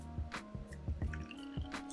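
Chatime brown sugar milk tea poured from a bottle into a glass, with a series of wet glugs and drips at an uneven rhythm, close and fairly quiet, with no talking.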